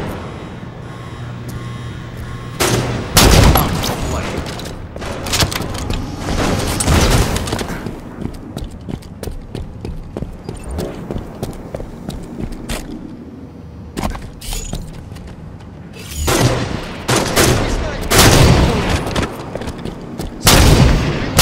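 Gunfire in the video game Halo 5: Guardians, loud sharp shots and bursts in clusters with brief lulls between them, mixed with booms and game effects over about twenty seconds, without talking.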